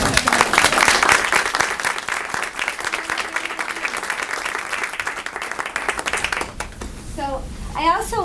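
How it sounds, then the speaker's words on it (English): Audience at a school board meeting applauds student writing contest winners with loud, sustained clapping that fades after about six seconds, followed by a voice speaking. "Let's clap for them."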